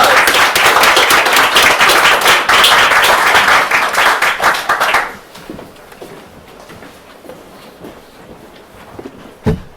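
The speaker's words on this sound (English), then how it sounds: "Give him a round of applause" An audience at an open mic bursts into loud, dense applause for about five seconds, then it drops quickly to a few scattered claps and quiet room noise.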